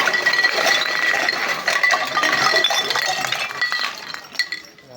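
A pile of scrap metal cans and bottles collected for recycling gives off dense, continuous clinking and rattling up close, fading toward the end.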